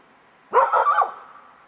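A single dog, just let loose during an outdoor hunting-style trial, gives one short, loud, tonal bark-yelp lasting about half a second, with no talk around it.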